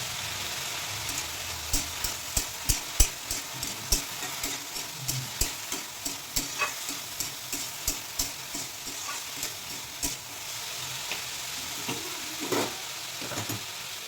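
Vegetables fry with ground spices (cumin powder, salt, turmeric and green chilli) in a pan over medium heat. A steady close sizzle runs under a regular rhythm of scraping stirring strokes, with no voices.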